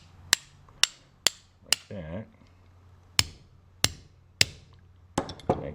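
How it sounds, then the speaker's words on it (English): A brass hammer taps a pin into the frame of a Series 70 1911 pistol on a workbench, sharp isolated metallic strikes in a slow uneven rhythm with a brief murmured word between them. "Sometimes I'll just take my brass hammer"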